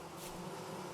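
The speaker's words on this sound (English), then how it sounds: "There's some bees." Bees in the Vintage Story video game give off a faint, continuous low buzz for about a second, alone and without speech.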